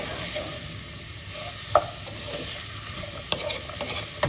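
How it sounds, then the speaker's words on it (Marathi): Onions sautéing in sausage oil with a pinch of salt, a constant dense sizzle filling the background, with a handful of brief spatula scrapes and taps standing out, close and steady. "कांदो आमी सॉटे करूया until light golden in colour."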